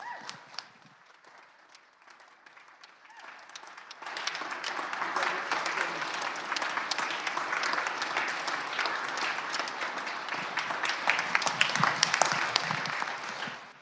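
Applause fills a state Senate chamber as guests are welcomed: a few early claps, then a sustained, dense round of clapping from the room that keeps going for about ten seconds, with faint voices underneath.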